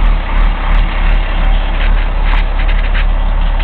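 A flatbed tow truck's engine runs steadily with a deep, continuous low rumble, loud and close throughout, with light rattles and clicks on top and no talk.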